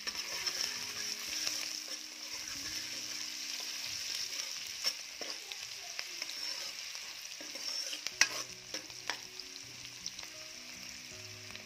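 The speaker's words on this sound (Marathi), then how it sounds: "कांदा छान परतून घ्यायचा आहे. चिमटभर मीठ टाकते." Chopped onion with a pinch of salt sautéing in oil previously used for frying, a continuous close sizzle with scraping stirs and occasional clinks of the spoon against the pan.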